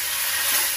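Spice paste frying in oil in a pan over a village cooking fire, a steady, close hiss of sizzling with no break.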